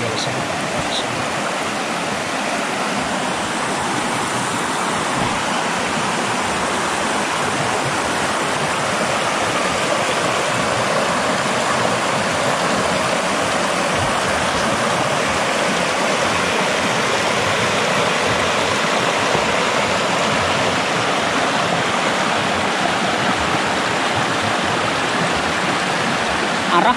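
Steady, loud rush of river water where two streams meet at a confluence in a forest, a continuous broadband wash with no pauses, heard up close.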